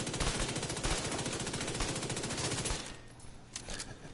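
Backup weapon firing in a video game from cover: a fast, continuous stream of loud, close gunshots that cuts off near the end, leaving a quieter tail with a few more bursts.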